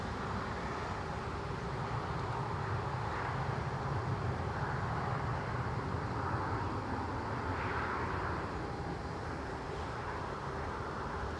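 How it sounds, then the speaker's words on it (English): A Ryanair airliner departing Newcastle airport, heard from runway-side as a steady, distant jet rumble with a broad whine that holds fairly constant throughout. "we've got Ryanair heading out for Gdansk"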